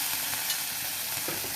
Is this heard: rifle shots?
no